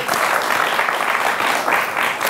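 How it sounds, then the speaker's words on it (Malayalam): Studio audience applause on a Malayalam TV chat show: a dense, steady burst of clapping that fills the whole stretch at an even, fairly loud level. "ഇത് ചെറിയ കാര്യമല്ല, ഒന്ന് കൈയടിച്ചു കൊടുക്ക്."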